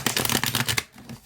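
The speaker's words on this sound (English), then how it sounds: "Let's see how it shuffles here." A quick riffle shuffle of a deck of glossy, gilt-edged tarot cards, a dense flurry of flicks for under a second, ending in a brief softer settle.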